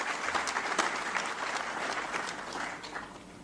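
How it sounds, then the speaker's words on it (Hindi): Audience applause at a public launch event for a taxi service in Jaipur, with dense clapping and scattered sharper claps throughout, slowly easing off toward the end. "जोरदार तालियों से स्वागत करें सकते हैं।"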